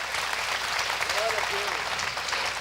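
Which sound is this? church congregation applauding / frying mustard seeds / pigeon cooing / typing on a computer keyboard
church congregation applauding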